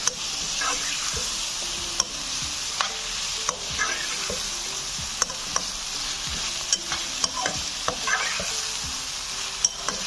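Finely chopped potatoes fry in a pan with a constant close sizzle, punctuated by regular sharp clicks and scrapes of a spoon stirring them, with no talk.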